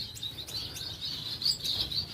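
High, thin chirps from Bengalese finch chicks repeat in quick succession over a low background hum, steady and close, with no talking.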